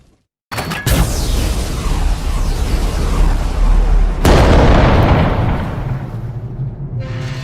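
A shot is fired, then heavy explosions rumble: a loud blast followed by continuous booming roar and a second big detonation, sustained and near, fading slightly at the end.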